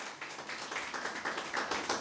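Congregation applauding God's word during a Catholic priest's sermon in a church, a dense, steady patter of many hands clapping at moderate loudness with no talk over it.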